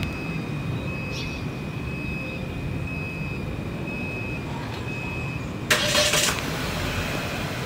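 A 2024 Chery Omoda 5 RZ starts remotely from its key fob: a steady idle hum with a faint tone, then a short burst of noise as the engine catches, with no talking.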